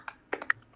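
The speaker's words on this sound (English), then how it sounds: "Like somebody is typing something and then hitting enter." A handful of deliberate keystrokes on a computer keyboard, a few separate clicks then a firmer final tap like an enter key, close and fairly quiet with no talking.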